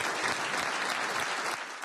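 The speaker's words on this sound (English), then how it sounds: "Sapp's colleagues filled the Greater Naples headquarters, cheering him on" Fire department colleagues at the Greater Naples headquarters give a retiring fire chief sustained, dense applause that holds steady and fades slightly at the end.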